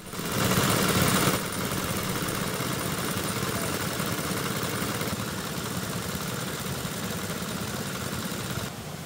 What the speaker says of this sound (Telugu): పొలాల్లో ఉన్న నీటిని స్థానికులు గంటల వ్యవధి నుండి మోటార్ల సాయంతో తోడుతున్నారు.